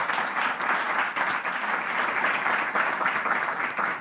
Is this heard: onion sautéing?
no